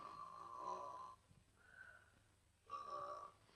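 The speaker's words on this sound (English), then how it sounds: "Snoring? Listen." Slow, rasping snores, two long inhaled snorts separated by a softer breath, close and fairly quiet.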